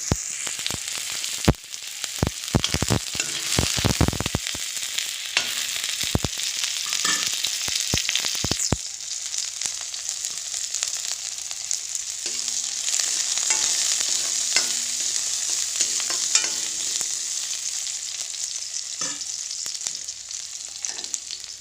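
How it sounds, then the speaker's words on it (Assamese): Onions sizzle steadily in hot oil in a home kitchen while a utensil stirs them, scraping and clattering in short bursts early on before the frying settles into an even, continuous hiss. "পিঁয়াজখিনি অকণমান ৰঙচুৱা হোৱালৈকে ভাজিম"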